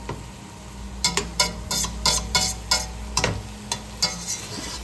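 Garlic sizzling in hot oil in a soup pot, a constant soft frying hiss broken by a regular series of sharp spoon scrapes and clinks, no talking.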